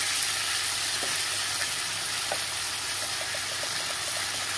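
Chopped tomato, salt and ground coriander, cumin, turmeric and chili powder sizzle steadily in hot oil for a spicy tangra fish curry, giving a constant frying hiss with occasional light stirring clicks.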